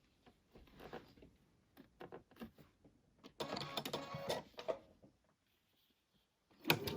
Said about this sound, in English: I'm going to sew the 2 half square triangles together to make a unit